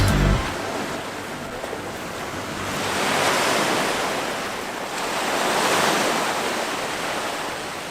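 Mediterranean Sea waves wash onto a beach on a clear day, a broad hissing surf that swells and recedes in two slow surges, with steady wind in the background.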